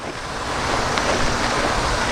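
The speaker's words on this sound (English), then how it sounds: "Oops, I think I broke the water faucet off." Water gushes from a broken-off outdoor faucet in a steady, loud, close rush of hissing spray that holds evenly throughout, with no voices.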